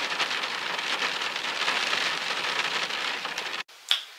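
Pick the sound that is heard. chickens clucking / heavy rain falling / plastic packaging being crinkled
heavy rain falling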